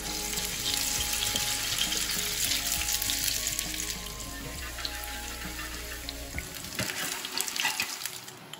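Potato and leek pancakes sizzle steadily in a hot pan of oil, a dense crackling fry throughout, with a few clinks and shifts toward the end.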